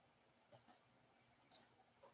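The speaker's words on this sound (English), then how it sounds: "Hear me clicking." Computer mouse clicking at a craft-making desk, four sharp, close, quiet clicks in two pairs over near silence.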